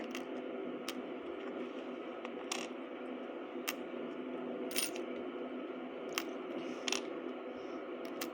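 Ukrainian kopiyka and hryvnia coins are handled and dropped, giving sharp metallic clinks at irregular intervals over a steady background hum, with no talking.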